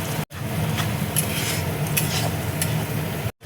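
Ground masala being stirred and fried in oil for katla fish curry, a steady close sizzle with scraping and rubbing of a spatula against the pan, briefly cut off at the start and end.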